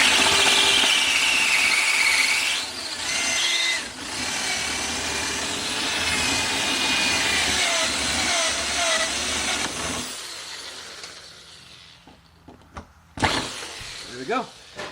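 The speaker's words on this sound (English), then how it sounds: "We'll go ahead and drill out the second one." A power drill whines steadily as it bores out a rivet on the trunk lid of a 1999–2004 Oldsmobile Alero or Pontiac Grand Am, running for about ten seconds before stopping, followed by a few faint clicks and metal taps.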